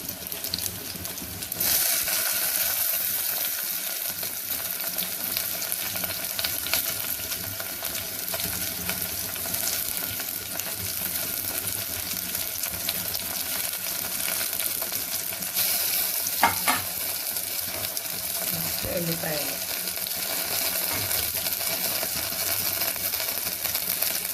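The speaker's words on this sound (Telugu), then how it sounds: "నెక్స్ట్ మనం టమాటా ముక్కలు వేసుకుందాం" Tomato pieces fry with green chillies in a pan, giving a continuous loud sizzle with occasional scraping and stirring clicks and a brief watery sound near the end, with no talking.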